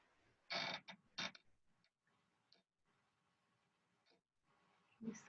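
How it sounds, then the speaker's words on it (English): A squeaky table creaks and ticks under someone leaning on it, a few short sharp squeaks close by in an otherwise quiet room. "Squeaky, kind of squeaky table. I'm leaning on it."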